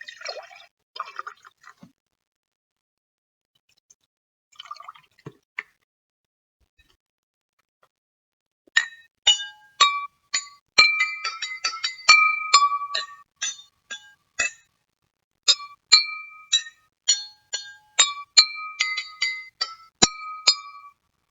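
Water poured into a row of drinking glasses, then the glasses struck in quick succession, giving bright ringing clinks at several different pitches, sparse at first and then a dense, rhythmic run of tones.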